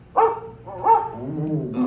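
A dog gives two sharp, close barks in quick succession, followed by a lower, drawn-out whine.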